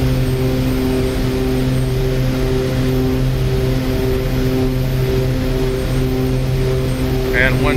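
An OV-10 Bronco's twin engines drone steadily during its takeoff roll in the DCS World flight simulator, a loud sustained hum with someone talking over it.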